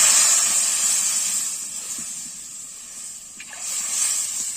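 Coconut milk poured into a hot pan of fried nigella seeds gives a steady, close, hissing sizzle that fades a little midway and then swells again, with no voices.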